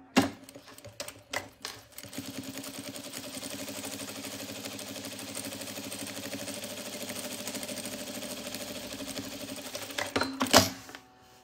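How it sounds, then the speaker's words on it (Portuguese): A sewing machine topstitches a fabric pharmacy-style zip pouch, running in one long steady mechanical whir for about eight seconds, bracketed by a few short stop-start bursts and clunks at the beginning and end; no one speaks. "Agora eu venho e faço um pesponto."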